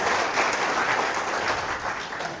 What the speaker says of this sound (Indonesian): Tepuk tangan, saudara-saudara sekalian.